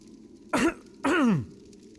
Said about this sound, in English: Cough hard to clear throat